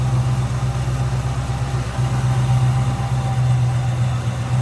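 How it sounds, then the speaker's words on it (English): A 351 Windsor V8 in a 1969 Ford Torino GT idles with a steady, deep burbling rumble, loud and close, holding an even rhythm throughout. "There's that 351 Windsor."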